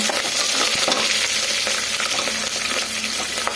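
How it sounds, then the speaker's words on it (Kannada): Onions and green chillies sizzle in hot oil for cooker chitranna, a loud, continuous close crackle with occasional stirring scrapes and no talking. "ಎಲ್ಲ ಸೇರಿಸಿ ಸ್ವಲ್ಪ ಫ್ರೈ ಮಾಡ್ಕೊಳ್ಳೋಣ."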